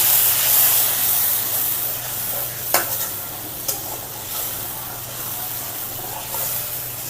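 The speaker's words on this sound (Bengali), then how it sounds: "গরম পানি কড়াই ছিল সেটা দিয়ে দিলাম" Hot water poured into a sizzling spiced pan gives a loud, close, steamy hiss, with a couple of sharp spattering bursts rising out of it before it fades to a gentler bubbling sizzle.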